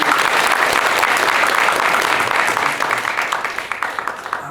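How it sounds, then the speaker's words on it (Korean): A church congregation at a Sunday service applauds together, with dense, steady clapping filling the room from start to finish and slowly thinning toward the end. "허민 고생 많이 하고 왔다고 한번 박수 보도록 합니다."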